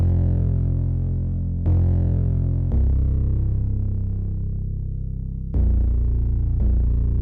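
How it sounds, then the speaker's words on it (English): Distorted, almost acoustic-sounding bass plays a heavy melodic pattern for a rage beat, its notes changing every second or so in a loud, sustained, gritty line with no other sounds. "He used like a distorted acoustic bass almost"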